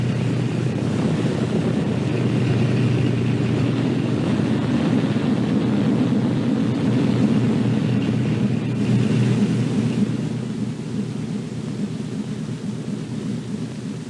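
Engines of a WWII B-24 Liberator bomber coming in for a belly landing at Morotai with a smashed hydraulic system, a steady rumbling drone throughout that eases slightly near the end, with no talk.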